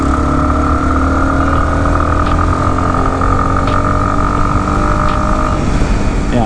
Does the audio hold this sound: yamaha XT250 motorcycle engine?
yes